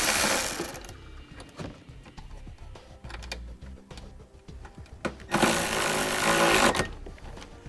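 A 10mm socket ratchet loosening a ground bolt on a 2006 Honda Odyssey, close rapid ratcheting clicks in two loud bursts with quieter mechanical clicks and handling between them.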